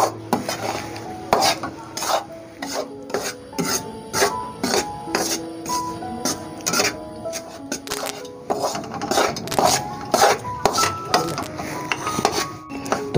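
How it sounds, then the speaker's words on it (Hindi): Besan (gram flour) is stirred and roasted in ghee in a pan for halwa, with a spoon scraping and clinking against the metal in steady repeated strokes, close and clear, without talking. "बेसन को यकजान कर लेना है, ऐसे मिक्स कर करके"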